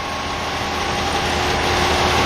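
A 2012 Dodge Charger R/T with a 5.7-liter Hemi V8 runs at a steady, loud, close rumble, holding an even tone with no voices.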